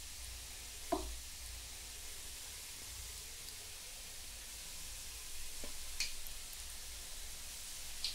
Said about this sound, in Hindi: तो अब मैं इसे डाल देती हूँ एक एक करके ऐसे। मैंने ऑयल लिया है इसे तलने के लिए।